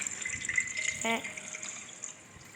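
Water runs steadily from a tap in the horror game Metel Horror Escape, a soft, continuous hiss, fairly quiet, with a brief tonal blip partway through.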